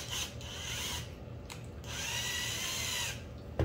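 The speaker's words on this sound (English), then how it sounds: "we're gonna drill through this piece of oak I have right here" A cordless drill bores through a piece of red oak hardwood, its motor whining in sustained bursts with brief pauses between them, loud and close.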